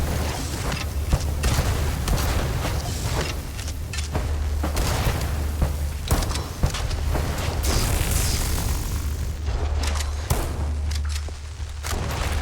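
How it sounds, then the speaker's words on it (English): In the video game Mouse: P.I. For Hire, dynamite blasts and rapid gunfire crash repeatedly over a low rumbling game soundtrack, dense and loud, with bursts coming every second or so and no voices heard. "it's where he throws the dynamite"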